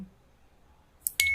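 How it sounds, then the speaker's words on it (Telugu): An AUTO LINK M3 smart digital multimeter in continuity mode gives a short electronic beep near the end after near silence, followed by a sharper, sustained buzzer tone. "ఇది బజర్ సౌండ్"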